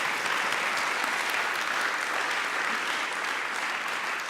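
Warm round of applause from a Founder's Day audience, an even, continuous patter of many hands clapping, fairly soft and distant-sounding, with no talk over it.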